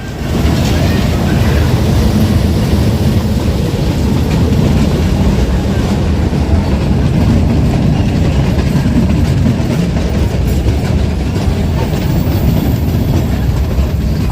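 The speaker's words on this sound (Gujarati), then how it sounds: "Junagadh Veraval train કાશિયાનેશ railway station આવી રહી છે" The Junagadh–Veraval train arrives at Kashiya Nes station, rolling past close by with a loud, steady rumble and rattling wheels that continues the whole time, with no voices.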